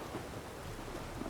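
Rain and thunder in the Witcher 3 video game, a dense steady hiss of rainfall with a low rumbling roll of thunder underneath, filling the brief moment without any voices.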